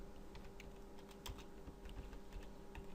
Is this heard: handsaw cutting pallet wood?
no